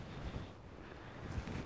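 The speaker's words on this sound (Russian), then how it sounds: "Надеюсь, микрофон спасет от ветра." Wind buffets a microphone on the Black Sea shore at Vityazevo, a steady low rumbling roar with a couple of slightly stronger gusts, no voices.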